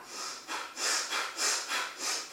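Slow, deliberate yoga breathing in and out through the nose, close and clear, with about five even breath pulses in a steady rhythm and no talking.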